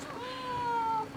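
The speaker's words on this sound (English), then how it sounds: "Oh, hi, cat." A house cat gives one drawn-out, rising then falling meow, close and clear against a quiet indoor background.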